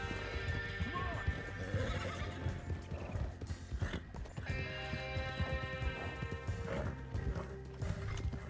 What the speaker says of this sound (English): My horse can just run straight through that thing.